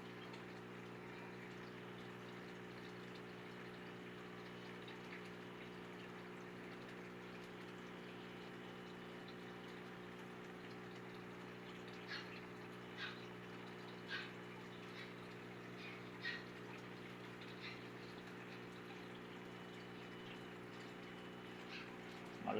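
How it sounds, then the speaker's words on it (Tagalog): A pump in a freshwater aquarium holding crayfish pushes out a strong, steady jet of water, a constant humming whir with a watery hiss, quiet overall, with a few faint clicks partway through. "malakas yung buga ng tubig."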